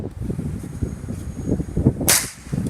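Cap gun aimed at a BMW outdoors fires one sharp broadband crack near the end, standing out over a steady rumble of low background noise.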